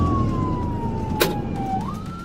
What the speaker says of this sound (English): Flashlights and sirens blared.